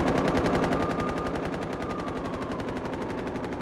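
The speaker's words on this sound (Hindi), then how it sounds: "ऑटोमेटिक मशीन गन से नॉन स्टॉप फायरिंग चल रही है।" Non-stop automatic machine gun fire from the Ukraine war, with Wagner Group forces shooting near a bridge: a loud, rapid, evenly spaced burst of shots continuing unbroken from start to finish.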